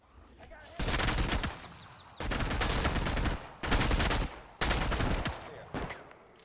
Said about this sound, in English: who's shooting a bunch?